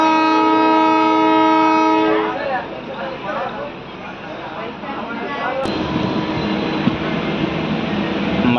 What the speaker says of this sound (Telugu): మట్టుమారి నుంచి మన ట్రైన్ బయలుదేరింది